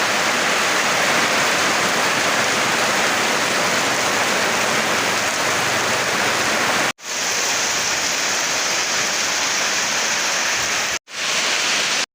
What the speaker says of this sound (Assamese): আকাশত বৰষুণ আহিল তো এতিয়া মই আছোঁ আৰু ইয়াত হৈ গ'ল বৰষুণ দিয়া ষ্টাৰ্ট